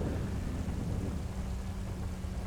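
Thunderstorm in the video game GTA V: a dense, continuous rumble of thunder with heavy rain-like noise filling the whole stretch, loud and steady with no distinct breaks.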